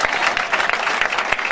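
A church congregation applauds the Lord after a sermon, giving a dense, steady burst of clapping from many hands, close and loud, with no speech over it.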